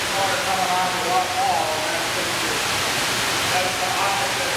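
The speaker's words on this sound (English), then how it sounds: "the water coming out of the wall" Water pours steadily out of valves in a wall at a wastewater treatment plant, a loud continuous rushing splash that stays even throughout.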